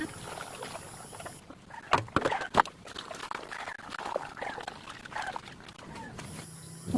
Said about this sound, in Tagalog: At syempre, sinabay ko na rin paliguan yung aking aso.